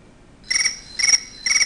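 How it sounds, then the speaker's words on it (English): An iPhone ringtone played through a speaker dock: a bright electronic chirp in three short repeated bursts, clear and fairly loud over near silence. "So we'll just play some of the iPhone tones."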